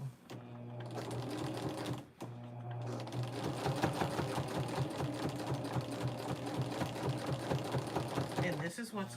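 A sewing machine stitches the binding on a quilt in fast, steady bursts close by, pausing briefly near the start and then running almost continuously.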